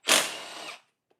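A power tool, likely an impact gun or drill, zips off a front support bolt on a Rattler bike in a single loud, close burst of under a second, which cuts off abruptly and leaves only a faint tick behind.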